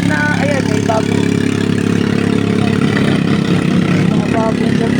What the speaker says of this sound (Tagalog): May bangkang motor agad.